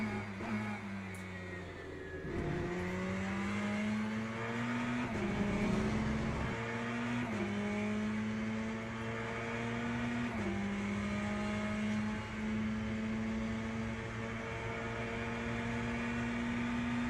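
A Ferrari race car in the Le Mans Ultimate racing game, its engine holding a steady loud whine that climbs through the gears with short dips at each shift, over a constant mechanical hum.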